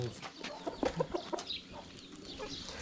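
Close, busy clucking from a chicken, with sharp bursts and short call notes coming in quick succession.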